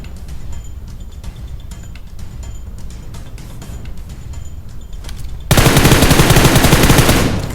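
Gunfire in the mobile battle game PUBG Mobile: scattered single shots and short bursts at first, then a sustained loud burst of rapid automatic fire over the last couple of seconds.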